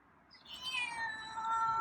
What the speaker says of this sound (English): He's meowing more, too.